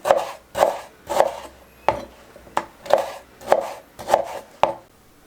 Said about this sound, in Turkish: İstediğiniz şekilde doğrayabilirsiniz domatesi.